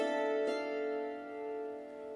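A few bright struck notes on a hammered dulcimer, played with both hands, ring out together and sustain, fading slowly; quiet and close, with no talking.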